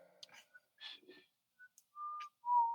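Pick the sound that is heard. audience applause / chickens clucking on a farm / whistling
whistling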